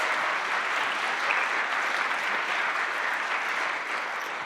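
Theater audience at a Shakespeare monologue and scene contest showcase applauds in a sustained, dense wash of clapping, loud and even throughout, with no talking on top.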